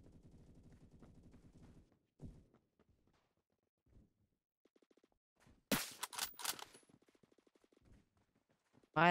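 Gunfire in a first-person shooter video game: a short burst of loud, sharp shots cracks out near the end, after quieter game noises and a brief low voice, with another shot at the very close.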